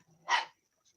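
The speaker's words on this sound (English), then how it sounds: "Sorry about my dogs." A single short dog bark sounds at a distance, faint and isolated in an otherwise quiet outdoor setting, from one of a household's young dogs.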